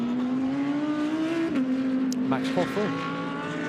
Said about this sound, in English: You could hear the rev limiter clipping.